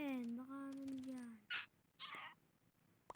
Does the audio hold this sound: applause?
no